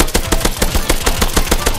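Rapid bursts of gunfire from a self-made online first-person shooter game, dense, loud and continuous with sharp repeated shots packed closely together.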